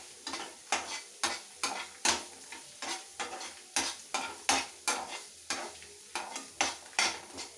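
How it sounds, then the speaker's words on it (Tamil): Groundnut chutney ingredients are stirred and sautéed in a pan, with a spoon scraping and knocking against the metal in a regular rhythm about twice a second over a soft sizzle. "இது கொஞ்சம் நல்லா வதக்கிடலாம்."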